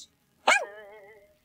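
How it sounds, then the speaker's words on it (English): A dog gives one sharp, close bark that slides into a short tonal yelp and fades within a second, with no other sound around it. "My childhood dog, Biscuit!"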